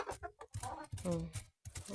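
Chickens clucking close by in short, choppy bursts with brief pauses between them.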